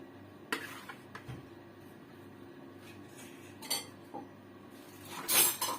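A spatula scrapes leftover orange cake batter from a mixing bowl, giving faint close scraping interrupted by several sharp clinks and taps against the bowl, the loudest near the end.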